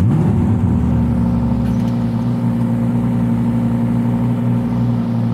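Ferrari F8 Tributo engine settling down after a cold start, a loud, steady close-up idle with a deep droning hum that eases slightly lower over a few seconds.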